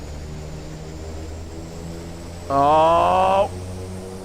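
A propeller aircraft engine in the Prepar3D v5 flight simulator surges to full power, a loud rising harmonic roar that lasts about a second over a steady cockpit hum. A brief exclamation is heard.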